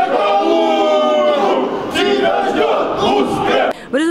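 Football supporters at a match between Metallurg-Vidnoe and Kaluga roar and chant loudly as a crowd, a dense sustained wall of voices that dips briefly near the end.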